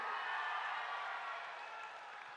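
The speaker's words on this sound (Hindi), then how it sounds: "आगे आओ प्रताप राव पाटिल जी के लिए जोर से ताली बजाइए सभी लोग" A rally crowd in Narsi, Nanded claps for MP Pratap Rao Patil, a steady, fairly faint wash of applause that tapers slightly toward the end, with no voices over it.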